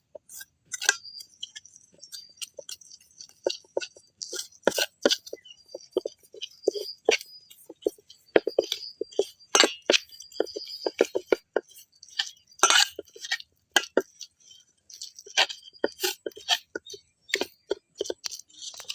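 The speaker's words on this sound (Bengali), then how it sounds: "ডিমটা খুব সুন্দর মিক্স করে দেবো।" A utensil beats egg in a bowl, making quick, irregular metallic clinks and taps close by. The rapid strokes come in uneven bursts throughout.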